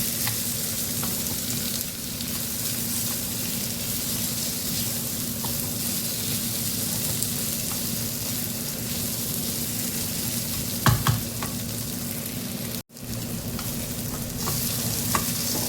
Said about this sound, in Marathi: काजूच्या बिया टाकते मी। मसाल्यामध्ये परतून घ्यायचे आहेत।